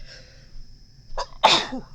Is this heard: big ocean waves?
no